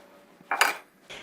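Potato or corn starch sifted through a sieve into meringue: two short, close rustling, tapping bursts with faint metallic clinks, the first longer and louder, then quiet.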